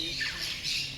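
A white bird at a bird park in Thanjavur gives harsh, raspy squawks, loud and close, repeating in a continuous rough burst with no other sounds.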